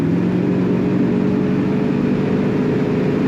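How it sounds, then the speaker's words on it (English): A 1971 Oldsmobile 442 convertible with automatic transmission hums loudly and steadily from close by as it accelerates, a constant droning whir with a tonal whine and little change in pitch. "Let's hear acceleration one more time."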